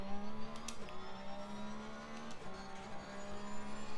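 A race car in Assetto Corsa Competizione holds a steady engine drone, with pitch dropping and climbing again through gear changes and braking, close and continuous with no talk.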